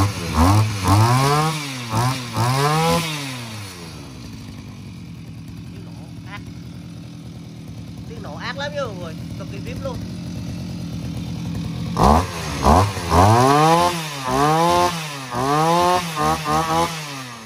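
Diesel engine of a Komatsu G45L motor grader runs close by, revving up and down in repeated surges, then idling more quietly before revving again, with a voice speaking over it.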